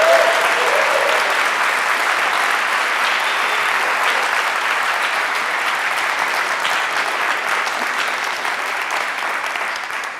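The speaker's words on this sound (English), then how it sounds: "whoop and clap and cheer and give people thunderous applause" Loud, sustained applause from a large crowd at a research awards ceremony, with cheering and whoops, steady throughout before easing slightly at the end.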